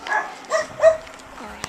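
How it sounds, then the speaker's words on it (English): A stray dog in a Romanian city barks three times in short bursts at moderate distance, with quiet street background between the barks. "we got a fair share of stray dogs."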